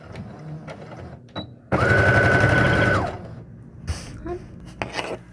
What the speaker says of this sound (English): So I sew a 1/4 inch seam allowance.